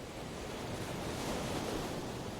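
Ocean waves near El Nido, Philippines, wash in as a soft, steady hush of broadband surf, faint and distant without distinct breaks, no voices present.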